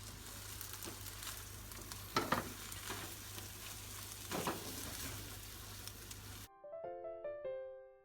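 Sausage frying alongside scrambled eggs in a pan, a steady close sizzle with a few stirring scrapes, ending abruptly in a short musical jingle.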